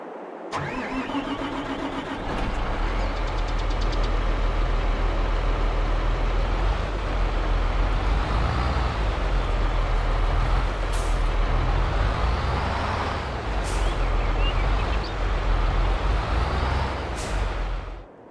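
Engine of a John Deere 7R tractor in Farming Simulator 22 starts up and then runs steadily for the whole stretch. A loud, continuous mid-range drone with a deep low rumble shifts slightly in pitch as the revs rise and fall.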